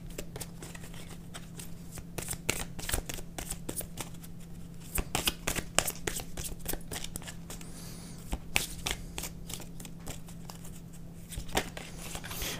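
Oracle cards are shuffled continuously, a dense stream of soft riffling and flicking close by, laid over a steady low hum and with no talk.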